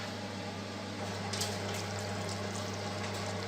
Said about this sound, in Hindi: अब मैं इसको करूँगी फ्राई। ऑयल मैंने रख दिया है पहले ही।